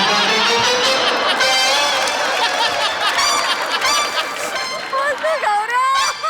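A person imitates a duck in a loud Marathi comedy sketch, giving rapid, nasal quacking squawks in bursts close to the listener.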